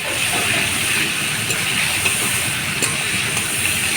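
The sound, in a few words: frying tomatoes with green chilli and salt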